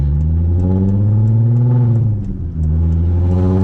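A car pulls away on a test drive after a new brake line was fitted, its engine droning loudly up close with a rising then easing pitch and a short dip near the end.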